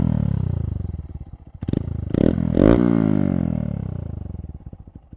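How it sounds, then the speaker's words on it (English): Honda Monkey fitted with an OverRacing titanium exhaust, idling then revving in several quick throttle blips that swell into a deep, throaty drone before settling back to a loping idle, close and loud. "when you pull on the throttle a little bit, it has a really nice, deep, throaty tone to it"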